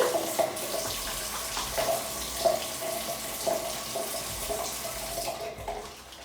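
Warm water runs steadily from a bathroom tap while someone works a small pump of cleanser into a lather in their hands for face washing, a constant hiss close by with soft splashes and no talking.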